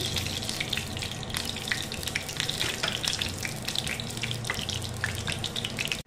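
Mustard oil pours into a pan for a spice paste, a continuous close splashing stream with faint sizzle, steady for several seconds before cutting off, no talking.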